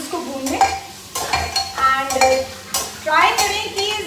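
A spoon scrapes and stirs mutton haleem ingredients frying in a pan, repeated close scraping strokes over a soft sizzle in an uneven rhythm.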